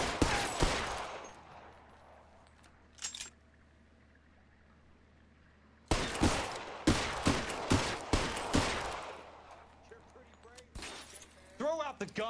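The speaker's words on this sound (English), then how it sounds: "This gunfight is dragging, Joms." Gunfire in a gunfight in L.A. Noire VR, a single burst of loud sharp shots, then quiet with a lone crack, then a rapid volley of close shots, with voices talking around them.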